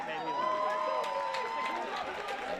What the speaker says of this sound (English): And the Milford fans applauding in approval.